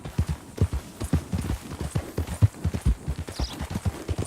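Steady clip-clop of horse hooves in the Red Dead Redemption 2 video game, a close, even trotting rhythm of hoof strikes that carries throughout with no talk over it.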